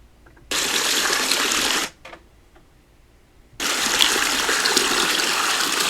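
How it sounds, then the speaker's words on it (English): Free-flowing water from a stream or spring, a loud hissing gush that starts, stops for about two seconds with a few faint handling sounds, then resumes just as strongly. "Nice free-flowing water."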